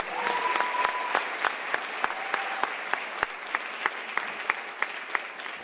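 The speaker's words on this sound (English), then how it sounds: "please give a round of applause for them" Applause from an audience at a high school spring band concert: a sustained, even wash of many hands clapping, with regular sharper claps cutting through close by, holding steady for several seconds without talk.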